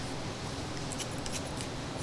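Barber shears snip through hair during a textured mid fade men's haircut, a few quick metallic cuts clustered near the middle over a steady low room hum, close and fairly soft.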